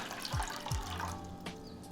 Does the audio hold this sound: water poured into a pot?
yes